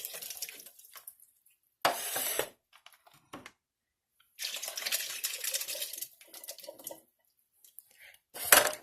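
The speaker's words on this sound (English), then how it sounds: "I'm pouring all these cans in there with the juice." Canned ingredients are poured with their juice into a soup pan that already holds fat and meat juices, giving several wet splashing pours separated by pauses, close and fairly loud.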